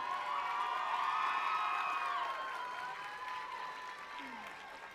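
An audience at a high school Lore event applauds and cheers as the 2022 Lore Court is presented, a sustained wave of clapping with whoops and shrill cheers that fades slightly toward the end.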